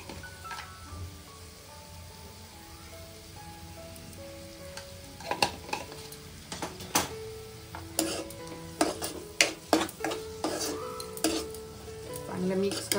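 Paneer bhurji with onion and tomato cooking in a pan, a steady sizzle under repeated metallic scrapes and clinks of a spoon stirring against the pan, growing busier toward the end.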